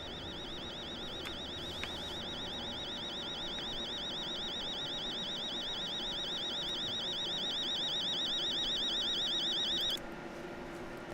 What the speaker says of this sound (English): That is the most annoying alarm I've ever heard in my life.